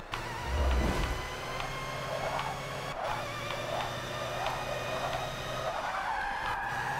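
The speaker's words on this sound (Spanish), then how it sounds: "¿Cómo derrapa este coche?" Tires skid in the Forza Motorsport 6 racing game, a rough screeching slide heard loud and close under a steady engine drone with repeated squeals through the lap.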